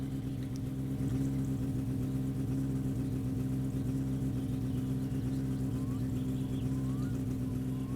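A car engine idles in the video game My Summer Car, a steady low rumbling hum with a faint irregular wobble, holding a constant level with no talk.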